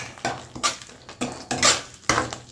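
A spoon scrapes and clanks against a cooking pot in several short, uneven strokes as masala powder is mixed in while preparing veg kurma, close and fairly quiet, with no talking.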